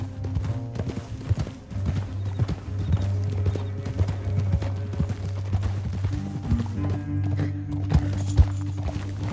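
Horses' hooves clip-clop steadily during a ride in Red Dead Redemption 2, a continuous galloping rhythm near and fairly loud over a low droning game score, with a horse's brief whinny in the mix.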